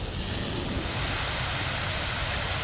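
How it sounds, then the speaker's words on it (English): A garden hose rigged with a taped nozzle sprays water across garden plants in a steady, loud hiss that swells slightly and continues without pause, close by and with no voices. "the water shoots out in every direction"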